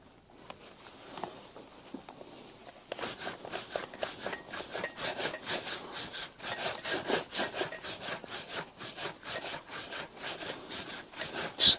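Rhythmic buffing of leather shoes with even strokes, a steady run of brisk rubbing swipes starting after a quiet moment and continuing close and fairly loud.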